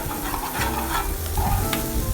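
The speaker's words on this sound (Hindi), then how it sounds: "आपने अंडे को नीचे नहीं लगने देना, चम्मच को मुसलसल हिलाते रहना है।" A spoon stirs egg bhurji frying in a pan, a continuous close sizzle with scraping stirs, steady and loud with no talking.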